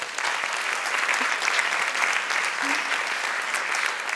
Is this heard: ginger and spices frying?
no